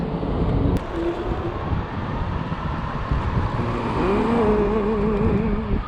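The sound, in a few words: street traffic during Friday rush hour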